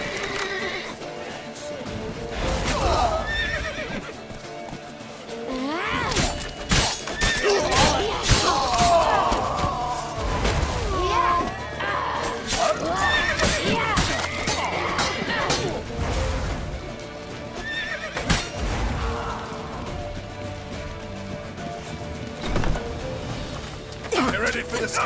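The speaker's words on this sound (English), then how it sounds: "Leave your horse!" Horse neighs and hoofbeats in the Witcher 3 video game, mixed with thuds and crashes in a busy chase scene, with voices shouting over the action throughout.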